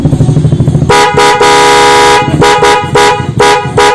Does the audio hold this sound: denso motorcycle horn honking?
yes